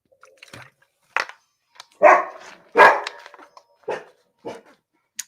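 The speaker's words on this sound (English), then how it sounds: "Somebody's ringing my bloody doorbell. Setting the dog off." A dog barks when the doorbell rings indoors, giving several sharp, loud close barks at irregular intervals with brief yips between them.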